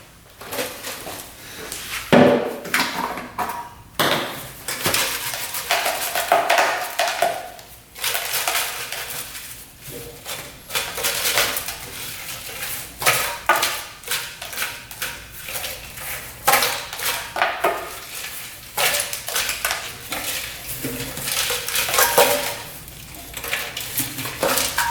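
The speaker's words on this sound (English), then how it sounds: "This is all rust chunks that came out here as part of the petcock." Chunks of rust pour and clatter out through the petcock of a rare two-stroke motorcycle's fuel tank, a busy gritty rattling and scraping of loose metal debris that runs close and fairly loud throughout.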